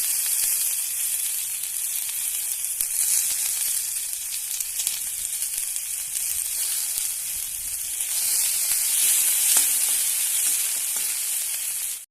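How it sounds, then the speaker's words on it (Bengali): Chopped onions fry in a little oil in a pan, giving a loud, even sizzle that holds steady the whole time. Faint crackles and stirring sounds come through, swelling slightly near the end. No voices. "এবার দিয়ে দিচ্ছি পেঁয়াজ কুচি,"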